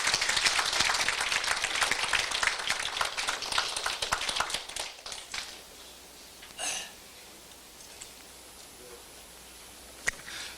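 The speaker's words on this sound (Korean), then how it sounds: "박수로 여러분 환영해 주시기 바랍니다." Dense applause from a seated audience at a forum welcoming a speaker, loud clapping for about five seconds before fading into a quiet room with a couple of faint knocks.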